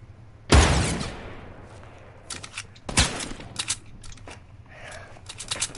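Gunfire in the video game Fortnite, a loud close shot at the start and another near the middle, then scattered quieter shots and clicks.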